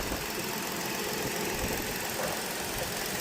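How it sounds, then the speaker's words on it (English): A 2018 Ford Flex engine idles with the hood open, a close, steady mid-pitched hum and rumble that holds constant throughout. "Engine is running."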